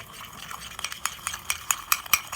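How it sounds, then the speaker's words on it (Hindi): A spoon stirs sugar and water for a cappuccino coffee mix, producing quick, rhythmic clinks and scrapes against a cup, close and crisp, with no talking. "और हम इसको अच्छे तरीके से जो है मिक्स करेंगे"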